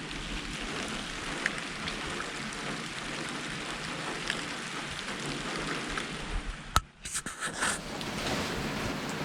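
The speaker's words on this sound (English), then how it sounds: "it's been raining almost all day, and it's starting to come down a little bit more" Steady rain pours down on a hunting trip in a dense, even patter, with a brief sharp knock and a momentary lull near the end before the downpour resumes.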